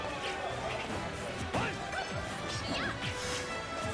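Hard hit impacts and swooshes from fighting moves in Super Smash Bros. Ultimate during a tournament match, including a forward smash attack; several sharp cracks sit over steady crowd and game noise, with a commentator talking.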